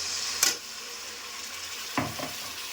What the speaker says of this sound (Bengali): এরপর আমি মশলাটাকে ভালো করে কষিয়ে নেব।